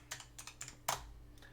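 A handful of keystrokes on a noisy computer keyboard, with several light clicks followed by one sharper, louder key press, heard up close.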